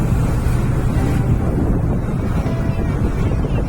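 Strong sea wind on a boat crossing to the Vivekananda Rock Memorial at Kanyakumari, a loud continuous roar of microphone buffeting over the wash of waves, with no talk.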